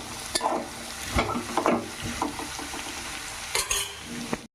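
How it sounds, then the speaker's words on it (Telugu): A ladle stirs salted snake gourd pieces frying in a pan, with steady sizzling under repeated scraping strokes and occasional metallic taps, close and with no voices. "ఇదిగోండి బాగా మనం గరిటె పెట్టి తిప్పుకుందాం ఉప్పు కలిపేదాకా."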